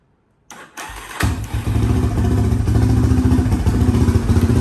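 A revived $200 ATV, damaged by weather, cranks over and catches, then settles into a steady, close, slightly clattery idle after a short start-up burst.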